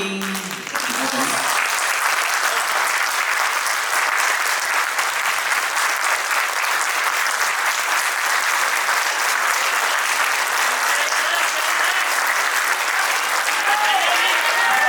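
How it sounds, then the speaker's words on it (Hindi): A seated audience at a Hindi poetry recital bursts into loud, sustained applause right after a poem is read, dense clapping filling the whole stretch. "जोरदार तालियां खड़े होकर बजाइए एक बार"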